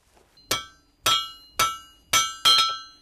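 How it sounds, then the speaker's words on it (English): A blacksmith strikes metal with hammer and tongs in a coal-fired shop: five sharp, ringing blows at an even, steady pace, each clang bright and metallic and decaying quickly, with no talk. "Got tongs and hammer here in my hand."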